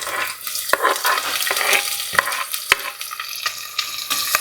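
Mustard seeds, curry leaves, garlic and onion fry in hot oil, giving a steady close sizzle broken by sharp clicks and scrapes as the pan is stirred, with no talking.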